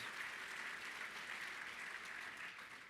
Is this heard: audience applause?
yes